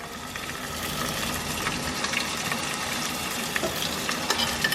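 Chicken frying in a pan, a dense continuous crackle and hiss with scattered popping spatters throughout, steady and close, with no one speaking.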